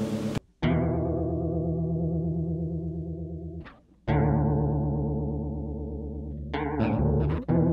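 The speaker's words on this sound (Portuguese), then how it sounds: "Aqui eu tenho chorus que eu uso na verdade para dar mais uma textura mesmo no som" Electric instrument run through a chorus effect pedal, giving a wavering, shimmering texture to long sustained tones that are plucked anew three times with short gaps between them.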